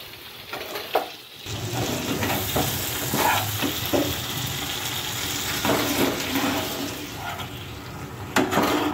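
Water is poured onto ground masala paste in a hot pan for a stuffed brinjal curry, setting off a loud hiss and bubbling sizzle that continues steadily with occasional stirring scrapes.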